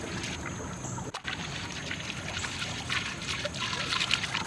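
Water trickles and splashes into a storm drain, a steady close wash of hissing, bubbling flow with a brief dropout near the start.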